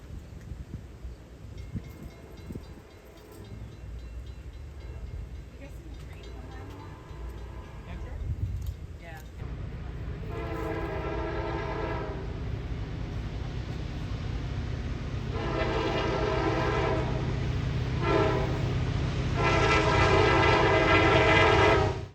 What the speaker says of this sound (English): the sound of an EMD 16645 prime mover at a high power setting makes for amazing audio